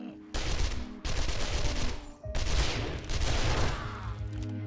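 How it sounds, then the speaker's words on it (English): Explosions and bursts of gunfire from the zombie survival video game 7 Days to Die, played with the Rebirth mod, come in three loud, dense waves separated by brief gaps, with crackling blasts and rumbling booms filling the scene. "So those explosions are going to help me with knocking them back down."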